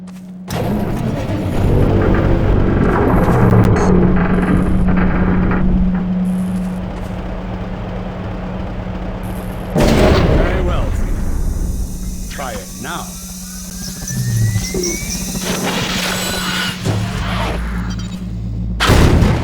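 Blasts from a Magnusson device thrown at a Strider in Half-Life 2: Episode Two boom and thud loudly, with heavy explosive bursts breaking through a sustained low hum and game noise, and a voice talking throughout.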